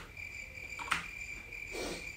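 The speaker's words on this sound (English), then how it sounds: "Cricket noise." Crickets chirp in a nighttime campsite scene of the Roblox horror game Camping 2, a steady high-pitched trill running throughout with a couple of brief brighter bursts layered over it.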